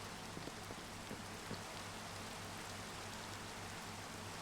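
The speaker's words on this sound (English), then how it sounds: "Just something satisfying about Minecraft rain" Minecraft rain falls as a steady, soft hiss of dense droplets, even and continuous with faint scattered patters and a low hum beneath, heard alone without talk.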